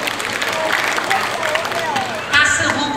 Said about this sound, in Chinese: 拍拍手。